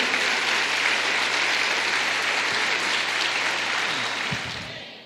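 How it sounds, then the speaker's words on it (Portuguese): Congregation in a Portuguese-language church service applauding for the Lord Jesus: a broad, sustained wash of clapping from a large crowd, holding steady before gradually fading, with a faint voice emerging near the end. "Aplaude o Senhor Jesus"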